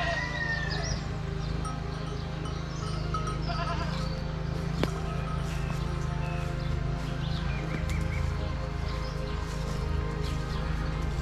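Sheep and goats bleat at a neighbouring farm in the countryside, scattered calls rising over a steady low rumble of farmyard background, with a few other animal sounds mixed in.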